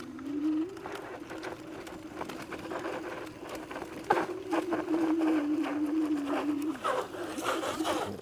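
A Zondoo Zo03 electric scooter in two-wheel drive and third gear climbing a steep hill, its motor whine steady and rising in pitch, with wind rush and road noise throughout.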